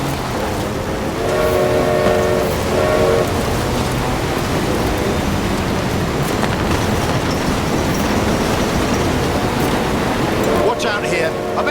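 A train rumbles past in Forza Horizon 4, with a steady broad roar throughout and two blasts of its horn, one early and one near the end.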